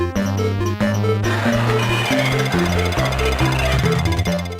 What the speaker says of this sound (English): the music emulation is so bad, the sounds are actually off-key